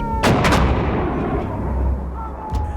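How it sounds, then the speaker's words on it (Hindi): Artillery fire in a war documentary about the Indian Army's 1971 shelling of Dhaka: two booming shots close together, then a long rumbling decay and a later thud. "भारतीय तोपखाने ने ढाका के बीचों बीच अपना पहला गोला दागा"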